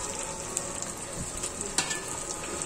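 Melted fat frying in a pan while being stirred, with a dense, steady hiss and crackle, close and even, and a few faint scrapes, no voices.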